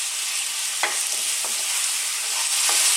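Beef chunks browning in a hot pan for stew give a loud, continuous, hissing sizzle up close, broken by a few faint scrapes as the meat is moved, with no talking.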